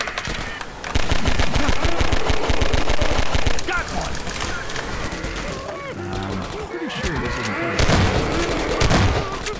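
Rapid, dense gunfire from the Half-Life 2: Episode 1 video game as players shoot zombies, with bursts and booms running nearly continuously and loud, while voices talk over the shooting.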